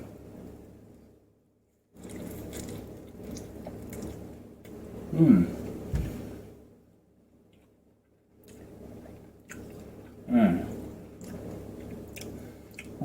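Spicy Korean instant noodles are chewed close up in wet, squishy bursts, with slurps between quiet pauses and someone talking intermittently.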